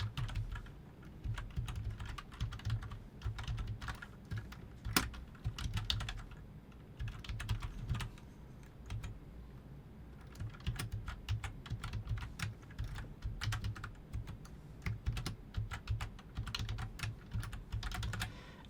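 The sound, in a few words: typing an email on a computer keyboard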